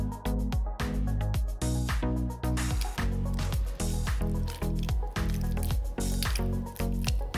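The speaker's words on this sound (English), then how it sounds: "put some cold water in it, and play with the slime under the cold water" Sticky edible candy slime squished and kneaded by hand under cold water in a small container, giving repeated wet squelching pulses in a steady rhythm, close and clear with no talk.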